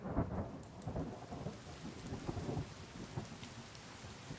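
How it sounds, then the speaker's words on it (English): Rain and rolling thunder in the survival video game The Forest: a low rumble churns under steady rainfall, with no voices. "Ooh, it's gonna rain."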